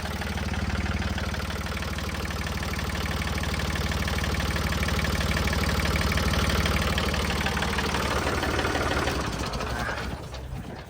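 A used Yanmar 39 tractor engine idles steadily with a low, even diesel chug throughout, close and loud, tapering off slightly at the very end.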